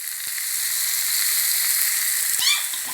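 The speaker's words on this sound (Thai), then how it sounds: "เติมน้ำมันลงไปเล็กน้อยค่ะ แล้วก็ใส่ต่อลงไปเลยนะคะ" Hornet larvae, about two hundred grams, hiss and crackle as they fry in a little oil in a pan, a steady close sizzle with a brief bubbling flare near the end.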